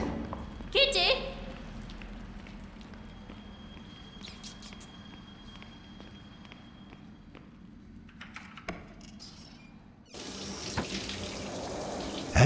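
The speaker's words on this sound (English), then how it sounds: "you hear running water coming from the bathroom. Someone is taking a shower." Water from a shower runs steadily in the background at low volume in a video game, heard from inside a flat, with a few faint clicks and bumps, then grows louder and hissier toward the end.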